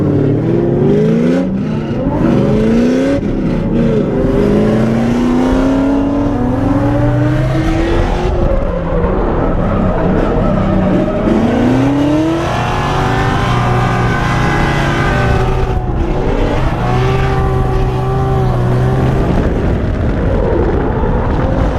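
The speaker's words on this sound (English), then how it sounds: "My car is not running very good. It's like breaking up and doing weird stuff." A Nissan Skyline drift car engine runs loud and close through a competition run, revving up and down in long sweeping pulls that stumble and break up unevenly as it strains.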